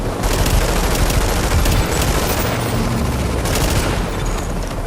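Gunfire from the multiplayer shooter Tom Clancy's The Division, a dense, continuous fusillade of automatic weapons and booms during a rogue attack, loud and steady throughout with no talking.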